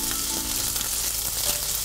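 Pork ginger sauté sizzles steadily in a frying pan with plenty of oil, flour and a sugared sauce, a close, continuous frying hiss with no talk.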